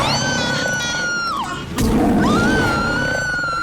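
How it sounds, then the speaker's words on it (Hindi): A scream in a tense scene built around a tiger-like villain: loud, drawn-out harmonic wails that slide downward, break off briefly and rise again, with a roaring, animal-like edge. "ये चीख की आवाज कहाँ से आ रही है?"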